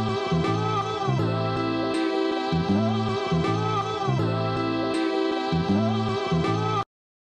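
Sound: different chops from sample sections for variation

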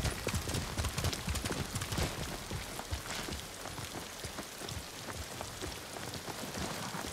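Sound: horse hooves galloping in rain, video game Ghost of Tsushima

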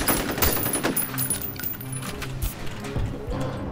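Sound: heavy assault gun firing in video game F.E.A.R

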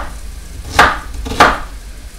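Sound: knife chopping onions

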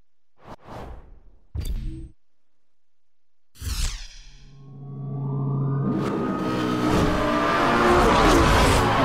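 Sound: Lamborghini Gallardo engine revving, video game Need for Speed Hot Pursuit Remastered

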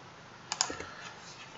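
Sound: typing on computer keyboard to delete items

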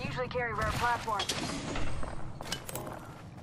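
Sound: gunfire in the video game Apex Legends

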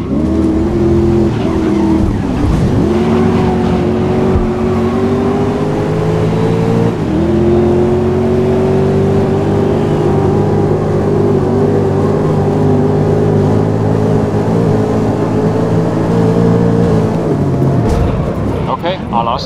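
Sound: race cars starting a race in video game GRID 2019

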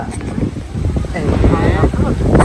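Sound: strong wind

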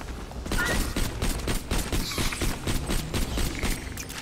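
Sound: shotgun gunfire in video game Borderlands: The Pre-Sequel

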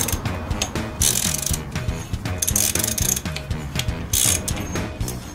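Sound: ratchet wrench clicking

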